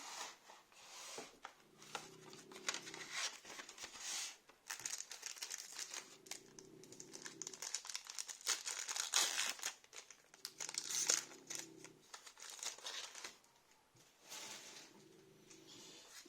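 Pokémon trading card booster packs are torn open, their foil wrappers crinkling and rustling continuously up close, with faint low background hum in stretches.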